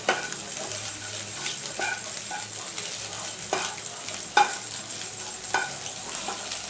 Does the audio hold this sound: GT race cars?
no